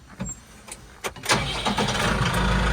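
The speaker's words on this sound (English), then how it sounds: "We'll turn our tractor on." A farm tractor used to pull a Kinze 2300 planter cranks and starts up nearby, a few starter bursts followed by the engine catching and settling into a steady, loud idle.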